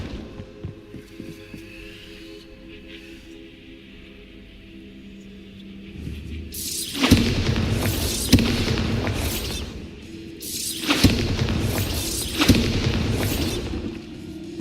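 Bombarda explosion spells in the Hogwarts Legacy video game go off as two big, loud bursts a few seconds apart, each a broad crackling blast, rising over a low ambient hum.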